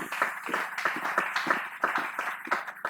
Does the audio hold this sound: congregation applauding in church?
yes